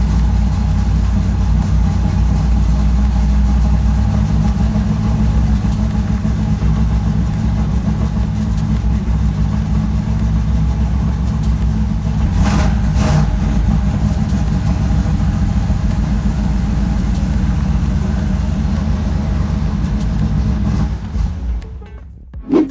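A third-generation Chevrolet Camaro engine idles loudly and steadily nearby, a deep continuous rumble with slight fluctuations, cutting off abruptly at the end.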